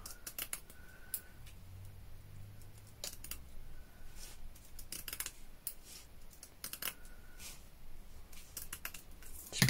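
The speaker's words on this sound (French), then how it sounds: "on peut les découper et comme ça on peut faire des bandes" Scissors cut craft material into strips for a DIY Easter egg project, making quiet, close snips and clicks in scattered bursts against a hushed room. No one speaks.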